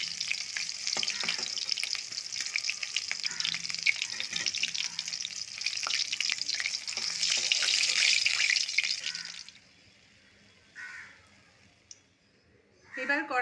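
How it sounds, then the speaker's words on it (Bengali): Katla fish frying in oil in a pan, giving a steady loud sizzle and crackle close by for about nine seconds. The sizzle then drops away, leaving brief clinks and quieter handling sounds. "মাছ ভাজা হয়ে গেছে, আমি তুলে নিচ্ছি।"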